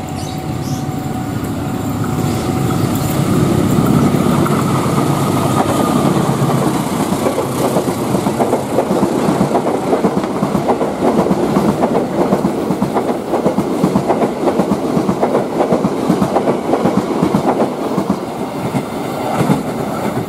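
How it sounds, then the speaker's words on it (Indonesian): A locomotive hauling a train rumbles nearby, its heavy engine drone giving way to a loud, steady clatter of wagons rolling past for a long stretch. "Ada bunyi lokomotif teman-teman, tapi nggak tahu ada rangkaiannya nggak ya."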